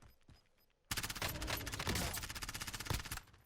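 Gunfire in the shooter game Warzone, with an MP7 submachine gun among the weapons mentioned: after a quiet start, a sudden dense burst of rapid automatic shots rattles on loudly for over two seconds, then tapers off.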